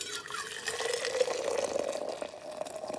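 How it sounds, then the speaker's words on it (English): Boiling water poured from a kettle into a Stanley thermos food jar, a continuous close splashing fill whose pitch rises steadily as the jar fills. "fill it about 1/3 to about 1/2 full of boiling water"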